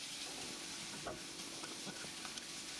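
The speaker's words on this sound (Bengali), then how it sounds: "মশলাটা ভালোভাবে ভেজে নিচ্ছি" A steady, soft sizzle of spice paste frying in oil for a beef tripe curry, with occasional light stirring scrapes, close and continuous.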